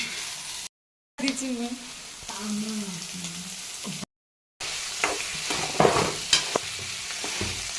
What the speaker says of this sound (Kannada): ಬೆಂಡೆಕಾಯಿ ಹುರ್ಕೊಳತ್ತೀವಿ ನೋಡ್ರಿ ಇಲ್ಲಿ